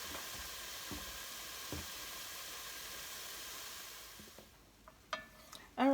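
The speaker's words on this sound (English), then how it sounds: "you're just going to cook your ground turkey in with the vegetables until it's no longer pink" Ground turkey cooks with vegetables and seasonings in a pot for an Italian-style soup. A steady, even sizzle and hiss holds for several seconds, then quiets, with a few clinks of a utensil near the end.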